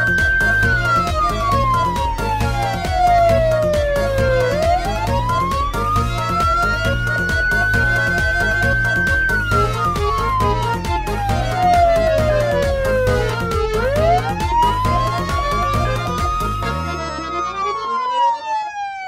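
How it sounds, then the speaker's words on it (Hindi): A machine's alarm at night sounds loudly and continuously, with a wailing siren-like tone that slowly rises and falls in long sweeps before cutting off abruptly near the end. "पता नहीं रात को कौन सा ऐसा मशीन लगा दिया, तब से अलार्म बज रहा है"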